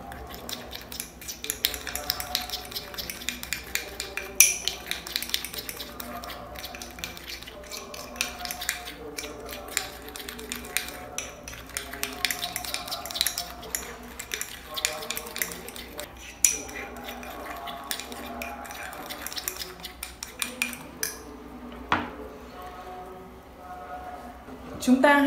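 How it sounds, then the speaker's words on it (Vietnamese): A toothpaste-based hair-removal paste being stirred in a bowl, with light scraping and clinking of the utensil against the sides, close and steady, under ongoing talk throughout. "Sau đó chúng ta sẽ trộn đều hỗn hợp"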